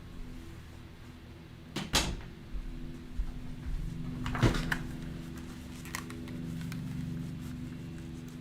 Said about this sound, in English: Let me just close the door here.